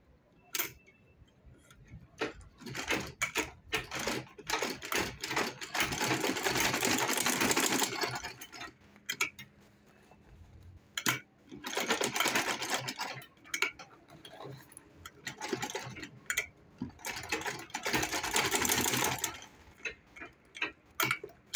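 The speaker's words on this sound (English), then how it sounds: "So fix it this way and top stitch it." A sewing machine top stitching a zipper pouch, running in bursts of rapid ticking stitches separated by short pauses and soft handling clicks, fairly close.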